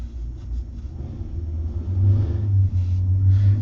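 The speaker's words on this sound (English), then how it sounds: "got really something that's a real loud engine going through" A loud vehicle engine rumbles close by, its deep drone swelling as it goes past, with no talking.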